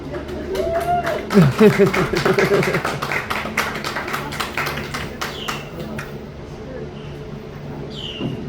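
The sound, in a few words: audience clapping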